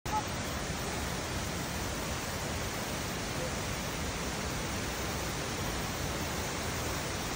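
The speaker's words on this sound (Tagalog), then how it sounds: "Pakinggan natin ang tunog ng talon." Shifen Waterfall in Taiwan rushes in a constant, even hiss of falling water, heard from a distance as a soft, unbroken wash with no other sounds standing out.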